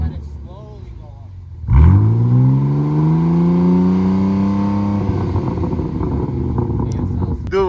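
BMW G82 M4 running its exhaust with the valves closed climbs in one long, steady rev from idle, holds loud and close, then drops back to a rumbling idle while people talk nearby.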